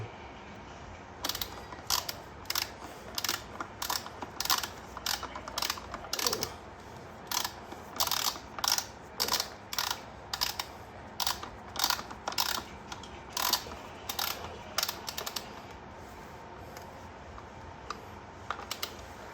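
A hand ratchet clicks in repeated quick bursts while snugging primary chain case bolts on a 2008 Harley-Davidson CVO Electra Glide, each run of sharp metallic pawl clicks separated by short pauses, close and clear with no talking.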